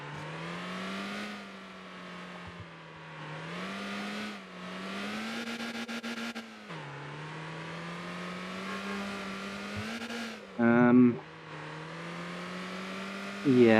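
A truck engine in the MotorTown driving game drones steadily, its pitch rising and falling through gear changes as it accelerates, with brief louder bursts near the end.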